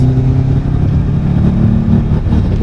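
Subaru WRX STi with a turbocharged engine accelerating, a steady loud engine drone with a low rumble and a rising induction whoosh layered on top, continuous throughout.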